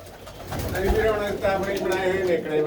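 Pigeons coo softly in a steady, murmuring chorus close by inside a pigeon coop, with soft rustling and low background noise throughout.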